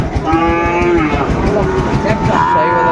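Cattle at a cattle market, including Sahiwal bull calves, give a long, loud nearby moo followed by further lowing, over a constant background of crowd murmur.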